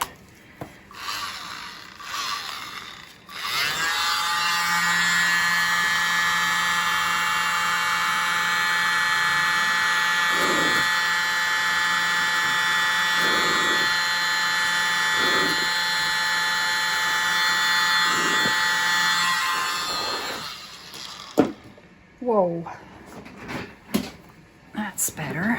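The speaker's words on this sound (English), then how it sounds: "Try my mini blower again." A mini blower runs steadily for about fifteen seconds, pushing air across a poured acrylic paint bloom, with a sustained whine and soft rushing noise, then cuts off, leaving brief handling clicks.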